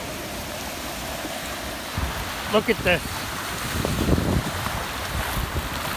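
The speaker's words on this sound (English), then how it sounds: "it is flooded. Look at this. It's like a fucking stream." Floodwater rushes past like a stream, a steady broad wash of moving water with wind buffeting the microphone throughout, while a voice speaks briefly in the middle.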